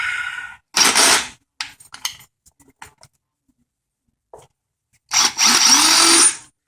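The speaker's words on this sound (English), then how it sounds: "I like to use a deep socket in the gun. Get that off." Pneumatic impact gun with a deep socket removing a control arm bolt on a 2002 BMW 325i, two loud rattling bursts about a second long separated by quiet clinks of tools, close up with no talk.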